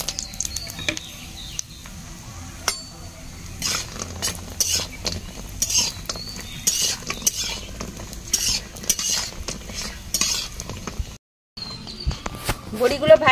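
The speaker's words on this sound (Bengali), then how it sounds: "বড়িগুলো ভেজে নেব।" Lentil dumplings (bori) frying in hot oil in a wok, a soft sizzle under repeated metal spatula scrapes and clinks against the pan, close, with a brief silent gap near the end.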